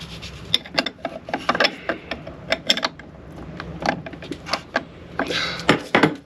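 Metal clinks and ratcheting clicks from a wrench tightening a part during an oil change on a Yanmar 30YM30AE marine diesel aboard a Beneteau 35 sailboat, a busy irregular run of sharp close taps.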